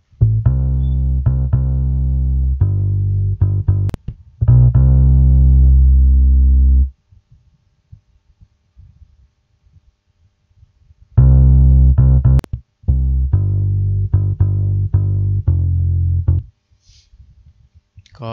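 Bass track in Cubase 5 run through the Compression 1 plugin preset, playing steady sustained low notes in two phrases separated by a few seconds of near-silence, with a sharp click at each break.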